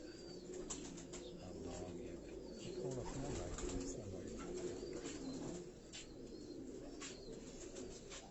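Khaki kamgar breed pigeons kept at a Karachi pigeon fancier's home, soft repeated cooing and low murmuring throughout at moderate distance, with occasional wing flaps and brief chirps mixed in under a steady background.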